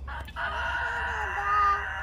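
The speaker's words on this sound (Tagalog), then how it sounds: "nandun yung manok sa looban" A rooster crows nearby in one long drawn-out call over a low steady background hum.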